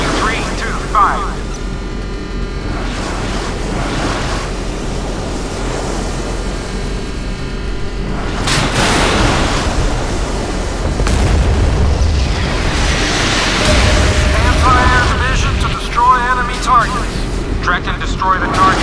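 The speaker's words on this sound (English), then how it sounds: "Fire! A missile is away." UGM-133 Trident II missile launches and explosions from a USS Ohio submarine game: deep booms and rushing blasts swell over a steady low rumble, with a voice talking throughout.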